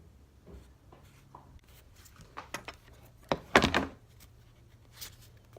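A pen scratches across a small curved disc in a quiet room, soft scattered strokes giving way to a louder cluster of firm scribbling and tapping, then a last faint stroke.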